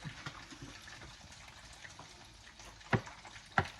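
Chicken pieces deep-fry in hot oil for Korean fried chicken, a faint steady bubbling sizzle close by, broken near the end by two sharp knocks.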